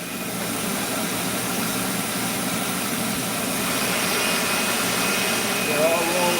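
A vacuum cleaner runs continuously, a steady loud whooshing motor drone that rises slightly toward the end as it switches from blowing to suction, with voices talking over it.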